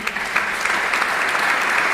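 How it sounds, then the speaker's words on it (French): Steady, dense applause from a seated audience at a business panel discussion on HR and corporate social responsibility, many hands clapping evenly throughout, loud and continuous with no talking. "On peut l'applaudir."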